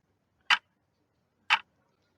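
A clock gives two crisp, isolated ticks exactly one second apart against near silence.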